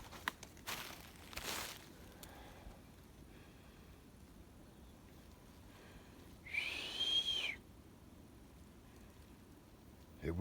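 A single whistle rings out in quiet woods, sustained for about a second near the middle, faint and somewhat distant against soft background hiss and a few light rustles.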